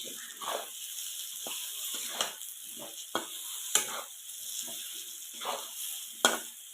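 Stuffed brinjals sizzle quietly in a pan while a spoon stirs them in short, irregular scrapes and taps, with a faint steady hiss behind.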